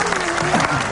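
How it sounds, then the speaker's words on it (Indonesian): A studio audience at an Indonesian television talk show gives a brief burst of applause, dense clapping mixed with a few voices, lasting under a second. "Tepuk tangan dulu."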